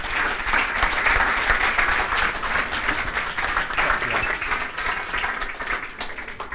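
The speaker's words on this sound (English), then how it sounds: "I think she needs a huge round of applause for that." Big round of applause from an audience at a rent-to-rent property masterclass, a thick, sustained wash of many hands clapping at close range, loud and unbroken for several seconds.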